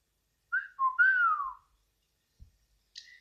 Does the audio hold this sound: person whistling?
yes